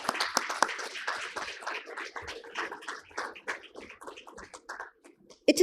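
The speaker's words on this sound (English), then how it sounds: "can we have a round of applause?" Audience at a plenary conference session claps, a scattered round of applause from a modest crowd that peaks early and gradually thins into individual claps before fading.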